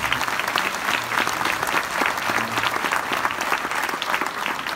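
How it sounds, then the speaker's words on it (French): Loud applause fills a conference hall in Castelmaurou as the audience claps warmly for an association representative, a continuous crisp patter of many hands with faint voices mixed in. "On l'applaudit très fort."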